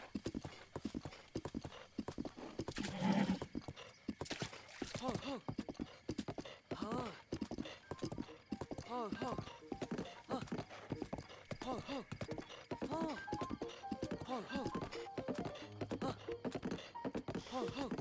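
Horse hooves clip-clopping in the video game Zelda Breath of the Wild, a steady quick rhythm of hoof beats with a brief whinny early on, running under frequent talking.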